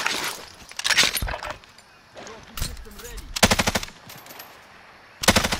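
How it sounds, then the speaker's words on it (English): Automatic rifle fire in the multiplayer video game Call of Duty: Modern Warfare, with loud rapid bursts and short single volleys separated by brief pauses and scattered background noise. "He's shooting."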